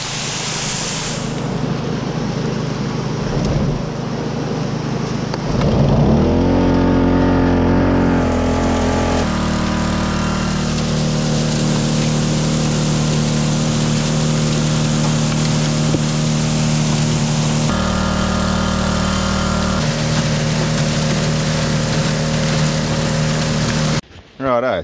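The engine of a gold trommel rig starts and then runs loudly and steadily close by as a constant droning roar, shifting in tone a few times before cutting off abruptly at the end.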